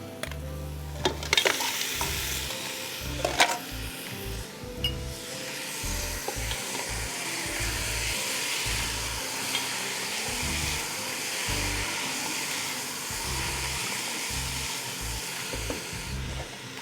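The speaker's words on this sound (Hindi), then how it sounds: "मुझे पाए को इसके मसाले में भूनना है" Paya (trotters) frying in masala in a pan, a dense continuous sizzle with occasional stirring scrapes and knocks near the start, close and steady without speech.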